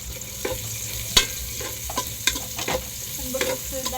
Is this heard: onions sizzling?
yes